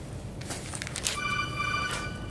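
A mobile phone rings in a lecture hall, a steady electronic tone sounding alone for about a second over room noise and shuffling, moderately loud.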